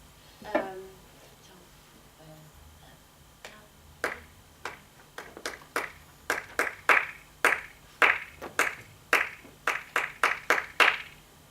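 A series of sharp hand claps, sparse at first and then settling into a steady, fairly quick rhythm, close and clear with no talking.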